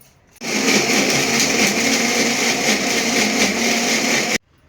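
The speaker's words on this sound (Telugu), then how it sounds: "ఇది రుబ్బుదాం ఇది మిక్సీ మిక్సీలో రుబ్బుకుందాం సన్నగా మెత్త పేస్ట్" A mixer grinder grinds soaked tamarind into a smooth paste, a loud continuous motor whine starting abruptly and running steadily for about four seconds before stopping sharply.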